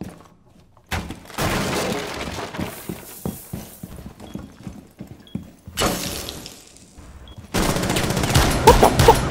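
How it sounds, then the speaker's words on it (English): Gunfire in a video game, shots fired through a floor: dense rapid bursts and crackling impacts with a shattering, splintering quality, coming in several separated loud clusters with quieter gaps between them. "can you shoot through the floor here?"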